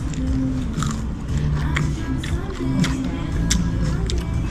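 Crunchy Filipino food is bitten and chewed up close, with a steady crackling crunch going on throughout, and voices talking underneath.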